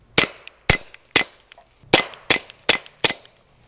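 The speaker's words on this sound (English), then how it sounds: "here's a good example of that first round pop being louder on the clean suppressor" Eight sharp suppressed gunshots in two quick groups, comparing dirty and clean suppressors, each a crisp, close pop with a short decay, evenly spaced and with no talking; the first-round pop is louder on the clean suppressor.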